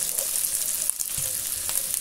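Bell pepper sautés in a Philco Redstone PPE04FS electric pan, giving a steady close hissing sizzle with faint crackles throughout.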